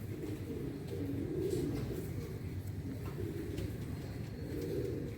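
A pigeon bred from a tournament bloodline coos in soft, low, repeating phrases, close and gentle over a faint background hum.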